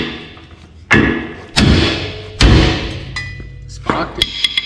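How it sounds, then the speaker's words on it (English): Three sharp metallic hammer strikes on a Toyota Hilux suspension part ring out about a second apart, each decaying with a clang, followed by a few lighter taps. "Give it a bit of a tap with a hammer."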